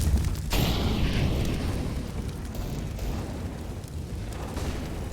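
An incendiary grenade bursting in CS GO: a loud blast near the start, then a roaring, crackling fire that fades slowly and holds at a steady rumble.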